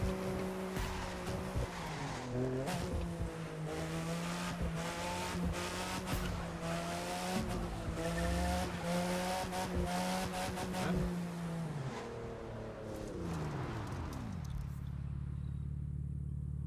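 A car engine in The Crew 2 racing game revs and shifts through gears with steady rising and falling tones, tire squeal mixed in, loud and continuous before dropping to a lower idle near the end.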